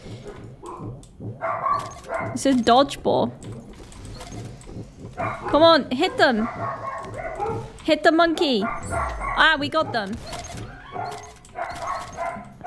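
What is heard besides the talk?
dogs barking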